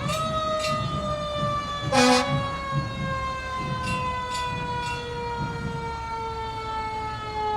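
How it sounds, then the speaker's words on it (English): A Quint 1 ladder fire engine from the Morganton Department of Public Safety sounds its siren in the 2019 downtown Morganton Christmas parade, a loud, steady, slowly falling wail held throughout, with a short horn-like burst near the middle. "That's the sound of the Quint 1 fire engine, operated by the Morganton Department of Public Safety."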